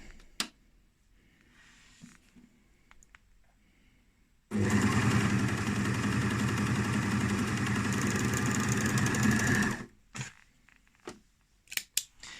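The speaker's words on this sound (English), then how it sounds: "you're going to use your overlock or your serger and just serge right across the top there" An overlock serger sews across the top of a fabric scrunchie to lock the elastic in place: a loud, steady mechanical whirr running about five seconds alone, then stopping, framed by quieter handling clicks before and after.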